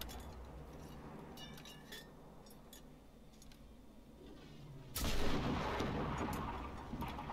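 Rockets fired in the video game GenZ, with distant clinks and shots followed by a loud, rumbling explosion that swells and slowly fades.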